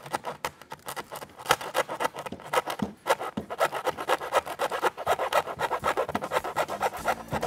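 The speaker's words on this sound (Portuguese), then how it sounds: "É fácil de cortar com essa serrinha de mão aqui." A small hand saw cuts through fibre material for an indigenous mask, a close, loud rhythmic rasping with quick back-and-forth strokes that continue steadily throughout without speech.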